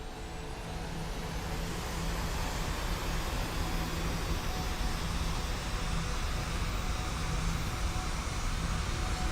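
Airplane engine roaring steadily during a takeoff roll in Kerbal Space Program 2, a dense, constant loud drone with a faint repeating hum and no voices.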